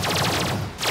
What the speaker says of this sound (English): And here we go with the laser cannons.